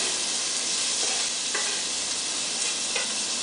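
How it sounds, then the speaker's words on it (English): Onions and garlic sizzling in olive oil in a hot pan for Brazilian lasagna, a dense, loud, continuous hiss with a few faint stirring taps, no one speaking. "So I'm just going to put some olive oil in the hot pan. And I'm going to put my onions and my garlic."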